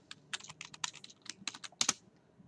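Keys tapped on a computer keyboard in a quick, irregular burst of crisp clicks, close and clear, with no talk and a louder pair of strokes near the end.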